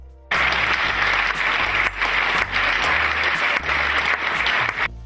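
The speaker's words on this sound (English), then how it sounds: "Ladies and gentlemen, please give a massive round of applause to our speaker, Dr. Joel Galinato." Loud, dense audience applause welcoming a speaker at a finance professionals' event, filling the room steadily for about five seconds with brief dips in intensity and no talking.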